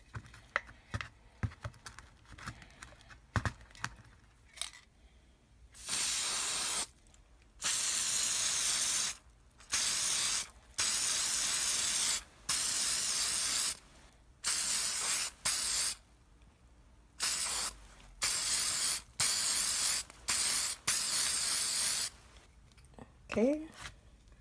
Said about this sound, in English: take some clear spray paint, and I'm just gonna spray over each one